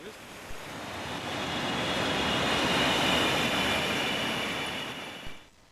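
A train arriving at Olten railway station in Switzerland, a broad rumbling roar with a faint high metallic whine that swells and then fades as it passes close by.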